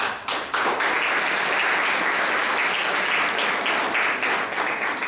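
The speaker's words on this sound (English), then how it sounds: "So you should give all of yourself a big round of applause." A large audience at a design academy talk in Jaipur breaks into loud, sustained applause, a dense wash of clapping that holds steady for several seconds.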